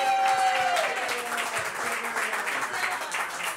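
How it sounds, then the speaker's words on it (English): Audience applause for a man named Dave at a political gathering, steady dense clapping throughout, a faint whistle-like tone near the start, moderately loud and continuous. "give a round of applause for my brother Dave"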